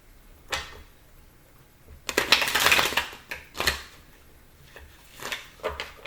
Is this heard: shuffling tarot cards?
yes